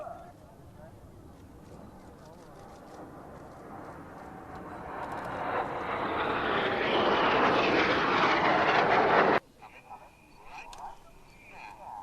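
Jet aircraft in a close formation aerobatic display roar overhead, the engine noise swelling steadily louder for several seconds as they approach, then cutting off abruptly.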